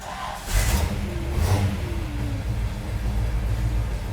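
A 1968 Pontiac GTO convertible's big engine cranks and catches, then settles into a deep, rumbling idle with a couple of throaty revs, loud and close.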